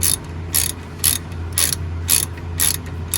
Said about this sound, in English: Use a wrench to remove the pin